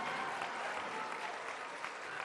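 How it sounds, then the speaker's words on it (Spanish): An outdoor audience at a public political event in Chihuahua applauds, an even, sustained wash of many hands clapping at a distance, fairly faint, with no talk over it. "hay que darles un aplauso por el trabajo que hacen"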